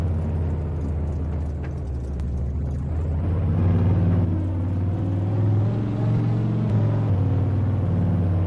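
A deep, rumbling truck engine in Farming Simulator 22 idles and revs gently, its low throbbing hum rising slightly midway, steady and close with no talking.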